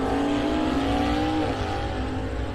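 A 1982 Aries with a 135 four-cylinder engine drives down a drag racetrack, giving a steady, moderately loud engine drone with a droning tone that shifts slightly in pitch, and no talking.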